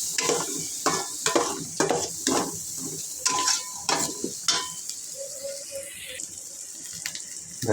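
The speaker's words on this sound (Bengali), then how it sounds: "মশলাটা ভালো করে কষাইতে হবে," Ground turmeric, chilli and coriander spices for beef curry being stirred and fried in a pan, with steady scraping strokes over a constant sizzle at close range and no speech.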